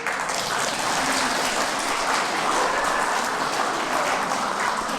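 Steady, dense applause from an audience at a Catholic charismatic prayer meeting talk, a continuous wash of many hands clapping with no voices over it.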